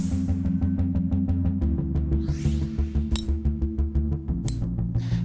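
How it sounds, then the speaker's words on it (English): Cast game improvement golf irons striking balls give a rapid train of bright, clicky metallic impacts over a steady low hum, with a couple of louder pings standing out. "That is the sound of two of the top-selling game improvement irons on the market that are cast."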